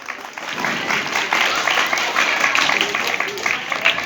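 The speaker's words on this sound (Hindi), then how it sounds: "आप लोग एक बार फिर से तालियां बजाएं" Steady applause from a crowd at an Independence Day event, dense clapping sustained throughout with a broad, even texture and a few voices mixed in.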